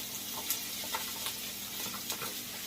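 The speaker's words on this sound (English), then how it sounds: "I've added some oil to my wok. I'm going to do my vegetables first, which is all my onions." Onions fry in oil in a wok, giving a constant close sizzle with a few light stirring taps spaced through it, no talking.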